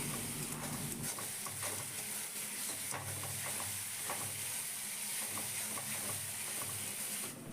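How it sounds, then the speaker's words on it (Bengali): Spice paste being sautéed in oil in a pan for a potato, pointed gourd and soybean curry, a constant close sizzle with a few soft scraping strokes of the spatula, no talk. "মশলাটা খুব ভালো করে কষিয়ে নিতে হবে"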